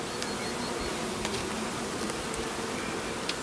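Honeybees in a hive holding a freshly hatched brood and a newly laying queen drone in a steady, dense buzz that stays close and even throughout, with a few sharper individual wingbeats standing out briefly.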